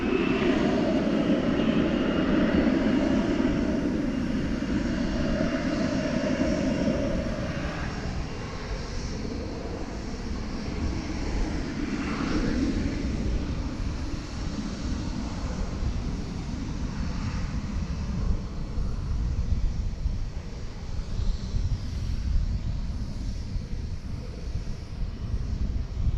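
A UPS cargo jet departing DFW Airport at night, a loud broad engine roar close at first that slowly fades and thins as the aircraft climbs away, with faint wind noise and no talk.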